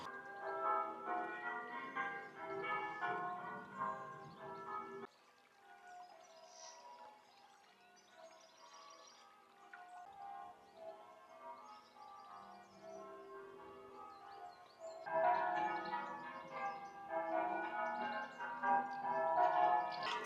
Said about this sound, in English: There go the church bells.